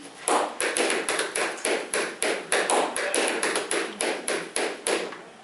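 Crisp tap shoes strike a hard floor in quick, syncopated patterns, two overlapping rhythms interlocking closely with no talking.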